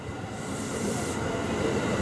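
A JR 311 series local train bound for Hamamatsu pulls into Toyohashi Station on the Tokaido Main Line, with a close, steady rumble of wheels and rails, a rising hiss and faint wheel squeal throughout.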